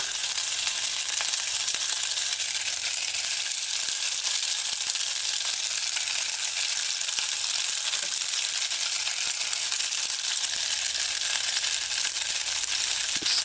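Fish balls frying in a pan on a stove set to high heat, a steady loud sizzle of hot oil lasting throughout with occasional faint crackles.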